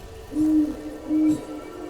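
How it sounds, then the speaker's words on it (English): An owl in an animated show gives two clear, low hoots about half a second apart, steady and fairly loud over a quiet background. "what a gorgeous owl"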